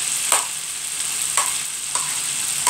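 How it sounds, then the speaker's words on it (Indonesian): Onion and spices fry in a hot pan with a steady bright sizzle, broken every second or so by louder crackling bursts as the ingredients are stirred. "dan bawang merahnya juga 1/2 butir, dan kita goreng dulu ya"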